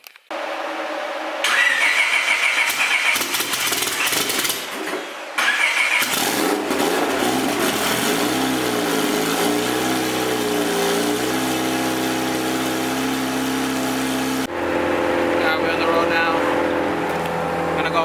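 A race car engine at a track day cranks and catches, stumbling a few times, then settles into a loud, rough, uneven idle nearby with revs rising and falling, struggling to stay running.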